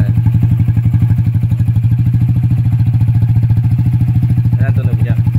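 A motorcycle fitted with a Replica Pro exhaust idles close by with a steady, deep, rapid thumping pulse. A brief voice comes near the end.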